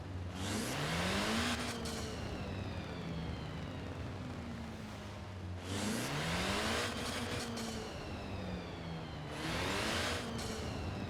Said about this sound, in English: That's a 2-liter four-cylinder.